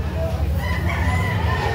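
A rooster crows over a short stretch at a poultry market in Carbon, Cebu, sitting on a constant low rumble of market noise with some background voices.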